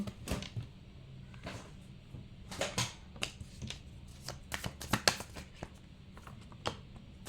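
Tarot cards shuffled and handled close up, giving a run of crisp flicks, slaps and rustles in uneven bursts, with several sharper snaps partway through and no talking.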